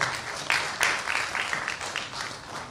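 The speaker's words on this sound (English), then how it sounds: "Please give Mr. Puri a bigger round of applause" Audience applause at a book release event in honour of Mr. Puri, a fairly quiet, thin spread of clapping across the room with a few sharper bursts, no voices over it.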